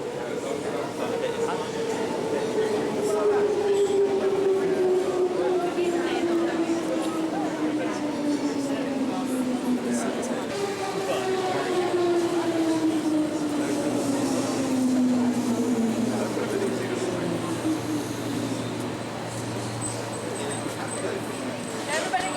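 A train in Vienna, Salzburg or Munich rolls past with a steady rumble and long descending tonal whines, while people talk in the background throughout.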